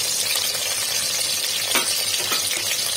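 Onions sizzling and frying in hot oil in a pressure cooker, a steady hiss with a brief stirring scrape partway through.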